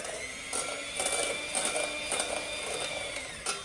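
An electric hand mixer whirs steadily while whipping egg whites in a bowl, a continuous close motor whine with rhythmic scraping pulses as the beaters move, and no speech.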